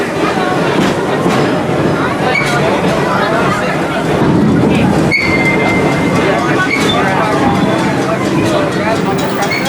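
Busch Gardens park train rolling along its track past the roller coasters. A loud, steady rumble and clatter runs throughout, with a faint murmur of riders in the background.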